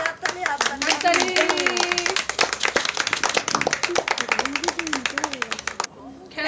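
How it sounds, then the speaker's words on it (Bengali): A small group claps hands rapidly and continuously after a prize is handed out in a blind cold-drink matching game, while voices talk and call out over the clapping. "হাততালি হাততালি হাততালি হাততালি"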